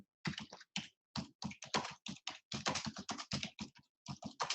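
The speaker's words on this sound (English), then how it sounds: "now what you can do over here is type something like our team" Fast keystrokes on a computer keyboard, close and crisp, arriving in quick irregular bursts with short pauses between words, with no voices.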